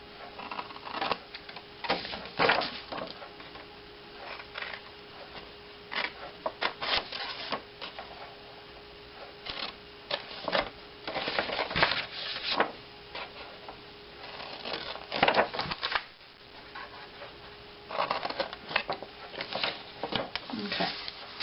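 Paper being cut along fold lines for an envelope makes quiet, intermittent crisp snips and rustles in short irregular bursts, close by, with faint background hum.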